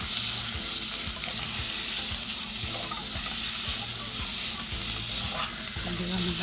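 Diced beef for a Peruvian sopa a la minuta sizzles in a soup pot with a loud, continuous hiss of frying, plus a faint rhythmic stirring underneath.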